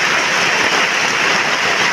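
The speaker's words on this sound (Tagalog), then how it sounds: "Ngayon po ang lakas ng ulan." Heavy rain pouring down in a steady, dense roar, close and loud with no pauses.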